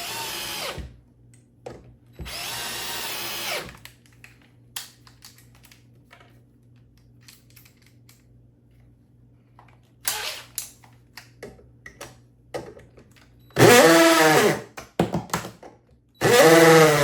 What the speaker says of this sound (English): We're going to drill them all, or screw them all into the wood